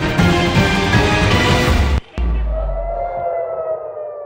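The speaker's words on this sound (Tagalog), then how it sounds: "Muling umalingaw-ngaw ang mga sirena sa Tel Aviv" Air raid sirens wail loudly in Tel Aviv, Israel, during Iranian missile attacks. A sustained siren cuts off abruptly, and a fainter siren tone lingers and drifts on afterward.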